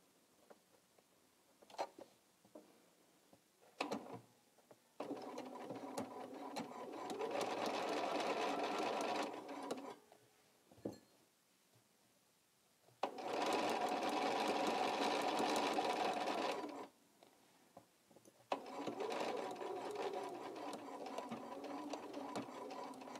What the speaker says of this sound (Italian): Quindi adesso cucio qua, poi taglio e apro la cucitura esattamente come ho fatto prima.